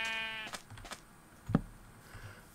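A sheep bleats in a video game, one harmonic bleat near the start followed by soft clicks and a sharper thud, fairly quiet against a faint background.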